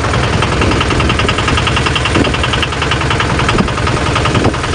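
A fishing trawler's engine runs steadily and loudly throughout, a continuous droning rumble with a knocking, idling-like pulse and no break.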